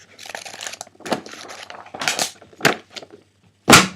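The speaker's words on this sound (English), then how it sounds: "That's the only sound this paper makes." Paper crinkles in several separate bursts, each a crisp rustle, with short pauses and a louder final crunch.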